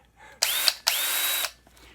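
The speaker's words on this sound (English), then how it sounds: "To mix the cake, we're using the drill." A power drill mixing chocolate cake batter whirs in two short bursts, spinning up with a rising whine, then stops; nearby and fairly loud, with no speech.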